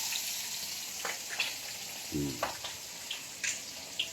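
Soft, steady sizzling of food frying in a pan, with a few light clinks and a brief low murmur partway through.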